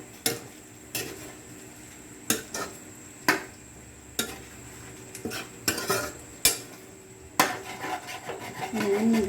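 Chop suey stirred in a pan right after sauce is poured in: repeated metal utensil scrapes and clanks against the pan at a loose rhythm over a faint sizzle, close and fairly loud.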